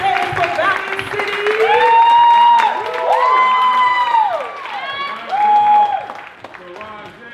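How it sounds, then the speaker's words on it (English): An audience at a live youth poetry showcase claps and cheers loudly for the arriving performers, with whoops and shouted voices rising over continuous applause. "A whole lot of clapping all the way up to the stage for Fountain City."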